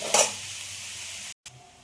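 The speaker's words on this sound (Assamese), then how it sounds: "আৰু এইখিনি এতিয়া মই অলপ সময় ভাজিম।" Chilli spice paste frying in a pan for an egg curry, a close, even sizzle with a brief stirring scrape near the start and a short break near the end.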